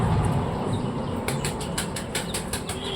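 Rapid, rhythmic flapping of pigeon wings close by, a steady series of soft whooshing beats over a constant background hum.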